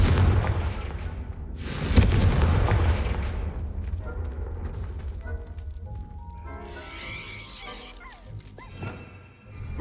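A Confringo blasting curse explodes in Hogwarts Legacy with a loud booming burst, followed by rumbling debris and layered game effects that fade out.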